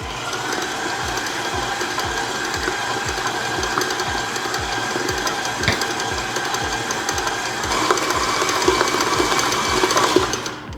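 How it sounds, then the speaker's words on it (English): Electric stand mixer beating cream cheese and granulated sugar, a steady close whirring with a rapid rhythmic mechanical ticking that runs continuously and rises slightly toward the end. "we're going to turn the mixer on low to medium"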